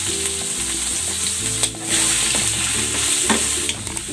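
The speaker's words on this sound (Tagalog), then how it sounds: "Unahin ko munang igigisa itong hipon." Shrimp sauté in a hot pan with garlic, salt and pepper, giving a loud, steady sizzle close up, broken by occasional scrapes of stirring, with no talking.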